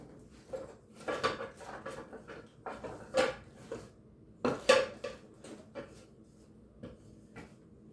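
Metal kitchen utensils and cutlery clatter and clink in a series of irregular bursts as someone rummages through a drawer for a measuring spoon, close by, with knocks like a cupboard or drawer moving.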